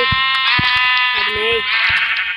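A sheep in the Minecraft video game gives a few short nasal bleats, layered under a person talking over a continuous high tonal hum.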